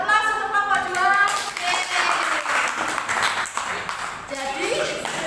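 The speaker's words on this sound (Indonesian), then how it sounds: "Kita beri aplaus untuk kelompok 2." Classroom applause for a student group after a presentation, a steady wash of many hands clapping that fills the clip, with faint voices mixed in.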